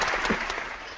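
A single person applauds, a quick run of sharp hand claps at close range, loud and brief with no talking over it.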